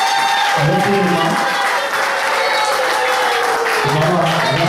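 A crowd at a celebration claps with their hands, giving steady loud applause throughout and mixed with loud talking and a chanting voice.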